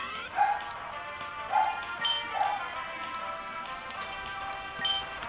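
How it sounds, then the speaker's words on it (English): Dogs bark faintly from somewhere nearby, about four short yaps spaced over a few seconds, under steady game music and background hum. "My dogs are barking at Jesus knows what"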